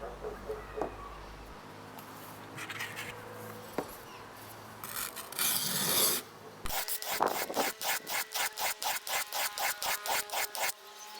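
A wood plane cutting iron is honed on a sharpening stone: irregular scraping and rubbing at first, then a run of about a dozen quick, even back-and-forth rasping strokes, close and fairly loud.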